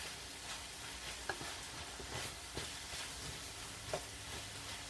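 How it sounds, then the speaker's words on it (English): Squash from a home garden frying in a pan with mushrooms, giving a soft steady sizzle with a few light scrapes and clinks of stirring, close and fairly quiet. "let that fry a little bit"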